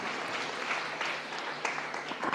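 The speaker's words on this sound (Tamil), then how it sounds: "நல்ல ஒரு உற்சாகமான ஒரு கைத்தட்டல் கொடுத்துடலாம்." An audience at a Chennai college debate event claps for a speaker, producing a steady, fairly faint wash of applause that continues evenly for a couple of seconds.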